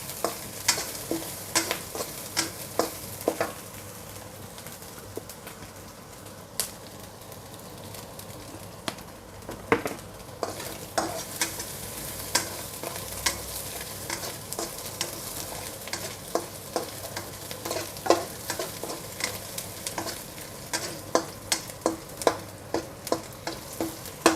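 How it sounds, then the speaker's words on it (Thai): Fried garlic being stir-fried in a pan for a mixed noodle dish: a steady frying sizzle with frequent sharp clicks and scrapes of the utensil against the pan, continuous throughout and with no talking. "แล้วเราก็ใส่กระเทียมเจียวค่ะ เอาลงไปผัดให้หอมๆนะคะ"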